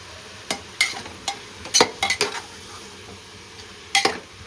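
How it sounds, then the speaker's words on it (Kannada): Fenugreek leaves for pulao fry in a pan under a light sizzle while a spoon stirs them, striking the pan in a string of clear, close clinks and scrapes. "ನೆಕ್ಸ್ಟ್ ಒಂದು 5 ಮಿನಿಟ್ಸ್ ಸ್ವಲ್ಪ ಫ್ರೈ ಮಾಡಿಸಿದ್ರೆ"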